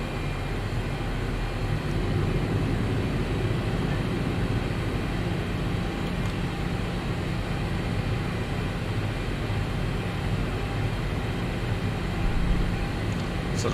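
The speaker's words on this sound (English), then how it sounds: "Okay, so left is clear, right is clear, so I'm going to start taxiing." A Ryanair Boeing 737-800 airliner taxis out for departure at Kerry, its engines giving a steady, unbroken broadband rumble and whine that stays loud and constant throughout, heard from inside the aircraft.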